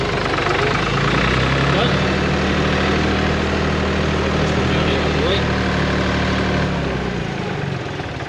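A farm tractor engine idles with a steady low rumble and vibration throughout, close by, then winds down slightly near the end.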